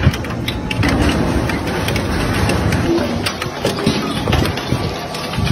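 Industrial shredder machine grinding up an LPG gas cylinder, a loud continuous mechanical churning and crunching with rattling, clanking bursts throughout, close and steady with no voices.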